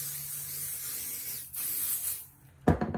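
505 spray adhesive is misted onto quilt batting in short hissing bursts, a steady close spray followed by a second burst after a brief pause, with a sharp handling clatter at the end.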